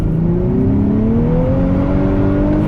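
Nissan Z engine revving hard and accelerating, a loud steady roar with harmonic tones rising in pitch as the revs climb, continuous and close with no talking.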